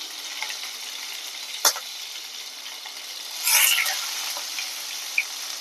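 Onions frying in oil with panch phoron and chilli in a pan, ahead of mourala fish; a steady close sizzle runs throughout, broken by a sharp tap near the start and a brief stirring scrape midway.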